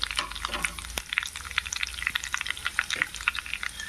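Seasonings crackling and popping in hot oil for poha upma, a quiet, busy sizzle of small sharp pops and spits close by, with no talk.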